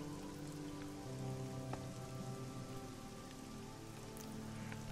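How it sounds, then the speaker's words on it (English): Steady, dense rainfall in the role-playing game Elex pours down continuously at even loudness, with a faint low ambient hum underneath and no voices. "Does it ever stop raining in this place?"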